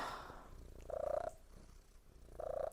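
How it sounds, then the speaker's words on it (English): A cat purrs up close in a quiet room, its rumbling coming in two distinct rhythmic bursts separated by a short pause. "I can see on the audio spike his purrs right now"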